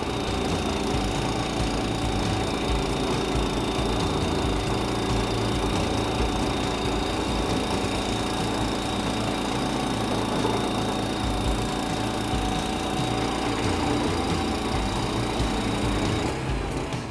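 A rotary hoe runs with its tines in reverse cutting deep into the ground, a loud steady engine drone with a rough, knocking churn that continues unbroken from start to finish.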